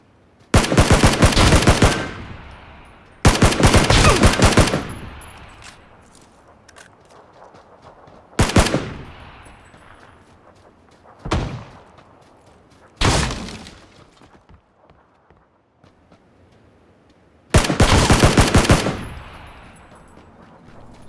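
Gunfire in the video game Battleground, loud and close: several separate bursts of rapid automatic fire, each lasting a second or two, separated by quieter gaps where the echo fades.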